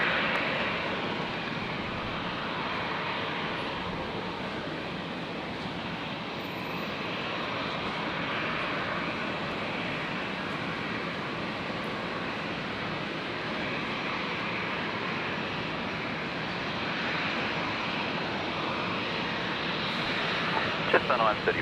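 Aircraft on runway 01 left at Brisbane Airport, lining up and cleared for takeoff, produces a steady, continuous broadband engine roar that holds at a fairly even level throughout, with faint radio chatter mixed in.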